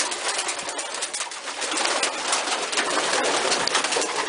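Pigeons cooing inside a loft, a steady dense chorus of coos with some wing flutter, close and loud throughout without talk.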